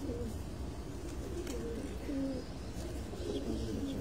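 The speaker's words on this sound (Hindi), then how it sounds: "ये देखें जी, ये कबूतरी देखें" Pigeons on a rooftop loft cooing softly in low repeated throaty calls, faint and somewhat distant over a steady background hum, no speech.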